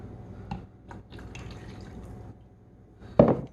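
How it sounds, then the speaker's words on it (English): Milk is poured into a bowl of whisked eggs for a sheet pan egg bake, a soft, faint liquid pour with a brief splash near the end and no talking. "After I get those whisked up, I'm going to add 3/4 cups of milk."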